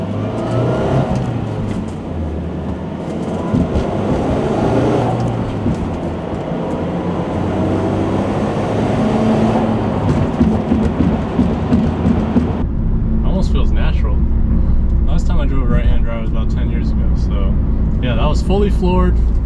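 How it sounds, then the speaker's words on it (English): A 1995 Nissan 200SX S14 Zenki in all-original, perfect condition accelerates flat out through second and third gear, its engine note rising loud and steady with a pause at each shift, heard from inside the car with talk partway through. "Fully floored from second through third, and yeah, just runs super smooth."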